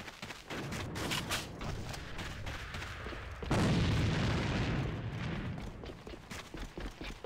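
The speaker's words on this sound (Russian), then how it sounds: "Бросаю гранату!" A grenade blast in an online shooter match, a loud boom that swells midway through, set among continuous gunfire and explosions.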